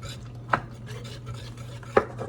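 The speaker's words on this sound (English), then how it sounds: "And now we're just going to stir." Butter mixture for crepes Suzette, with a pinch of salt, being stirred in a bowl, giving a steady soft scraping broken by two sharp knocks of the utensil against the side.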